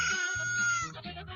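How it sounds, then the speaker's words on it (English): A rooster crows in a short, bright, strained call, close and fairly loud, with no talking over it. "Shooter the Rooster"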